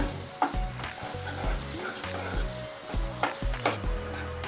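Fish roe frying in a pan with onion, a steady close sizzle broken by repeated scraping stirs and clinks of a spatula, fairly loud with no talking.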